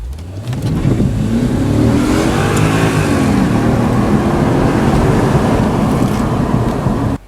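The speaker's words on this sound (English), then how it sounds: "this is stock exhaust in car with all four windows down" Cabin view of a B6 Audi S4 4.2 V8 on its stock exhaust with all four windows down: a loud, continuous engine drone rises as the car accelerates, with rushing wind noise mixed in, then cuts off abruptly.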